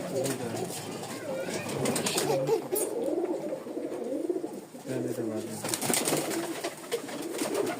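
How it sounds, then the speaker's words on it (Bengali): Several Giribaz pigeons coo repeatedly close by, their low warbling calls overlapping, while people talk in the background. "অনেক কবুতর আছে"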